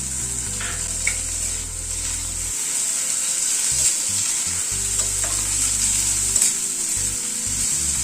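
Garlic, onion and chopped tomato frying together in a pan: a loud, even sizzle runs throughout, with occasional soft stirring scrapes and no voices.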